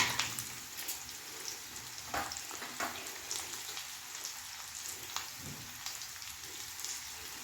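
Potatoes and sweet potatoes fry in a pan, giving a quiet, steady, rain-like crackle with a few soft louder pops, and no voices.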